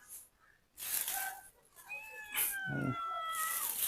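A cat meows several times in short, sharp calls, close and fairly loud, with brief pauses between cries and a longer drawn-out yowl near the end.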